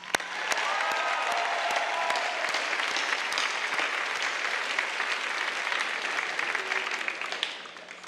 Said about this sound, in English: Graduates, please join me in giving your supporters a huge round of applause.